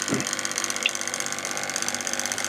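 A Tri-ang model railway locomotive, an upgraded B12, runs steadily with a noisy mechanical whirr and a fine ratcheting gear chatter, close up and alone.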